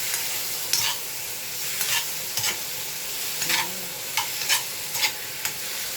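Tomatoes sautéing with garlic and onion in a pan for Bicol Express, a steady sizzle broken by repeated stirring scrapes and clacks of a spatula at an uneven rhythm.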